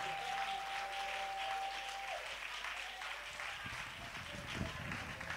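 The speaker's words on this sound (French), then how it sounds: "Acclamons le Seigneur pour le frère Kofi Sidouane." A church congregation claps and cheers in a sustained, steady wash of applause, fairly distant and even, with a held organ-like tone fading out early and a voice faintly underneath.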